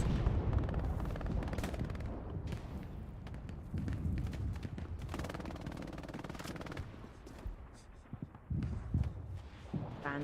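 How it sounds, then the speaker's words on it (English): Strafing gunfire in the World War II shooter Hell Let Loose comes as dense, sustained bursts of rapid shots and heavy booms, loud and continuous, with a brief lull and scattered cracks near the end while players talk over it. "Right, another strafe."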